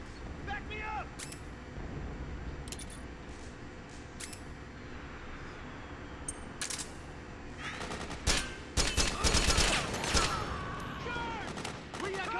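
Suppressing gunfire in the video game Metal Gear Solid 4 on PS3, with repeated gunshot bursts and volleys over a dense, rumbling battle background, heaviest from about eight seconds on, with voices shouting in the mix.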